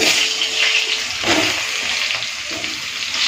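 Sliced potato and papaya dropped into hot oil seasoned with fried cumin seeds, for a rohu fish curry: a loud, close, continuous hiss and crackle of frying that swells briefly as the pieces go in.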